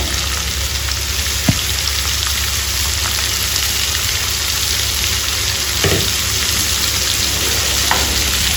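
Half a kilo of broad beans (chikkudukaya) fry in a pan with a loud, continuous sizzle and crackle, broken by a few faint utensil taps.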